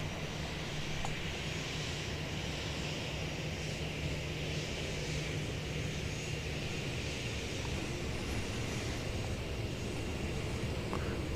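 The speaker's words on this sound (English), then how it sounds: "777, which is now being moved from its parking space in front of us." A United Boeing 777 is pushed back from its parking stand at Seoul, giving a continuous low engine drone and broadband airport hum at steady loudness, with a faint low tone in the first half and no talk.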